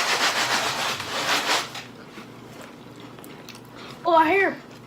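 Faint crackling and rubbing sounds of Pop Rocks candy popping in the mouth while eating an Oreo, with brief chewing noises, followed by a short burst of someone humming.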